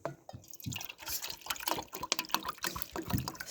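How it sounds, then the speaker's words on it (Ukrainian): Water trickles and drips steadily into a rabbits' water container, a light liquid splashing that runs for a few seconds with small bursts. "водичку тут теж наливаю"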